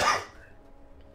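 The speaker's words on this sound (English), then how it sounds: "I cannot get rid of this cough." A single short, harsh cough from a man, close and sudden, fading quickly into a quiet room.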